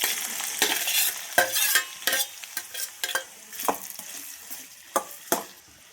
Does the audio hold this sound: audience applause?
no